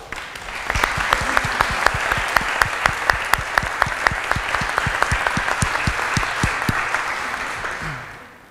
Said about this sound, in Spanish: su director Carlos Carroza Sandaño, quien bien se merece un aplauso.